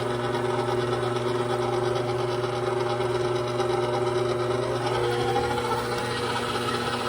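An electric stand mixer kneads whole wheat bread dough with a steady mechanical whir and motor hum, nearby and fairly loud, its pitch rising slightly as the speed is nudged up near the end.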